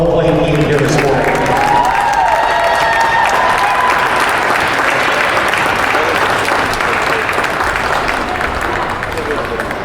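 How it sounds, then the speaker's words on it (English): Sustained crowd applause fills an ice hockey arena after a youth game, steady and loud for the whole stretch with a murmur of voices mixed in. "let's give both teams a nice round of applause on a well-played game here this morning."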